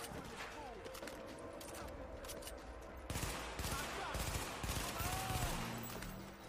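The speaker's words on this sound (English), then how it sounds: "We are taking heaps of shots." Gunfire in the shooter game The Division, dense bursts of rapid shots and impacts building in intensity after a few seconds, loud and continuous over background combat noise, with a voice heard faintly.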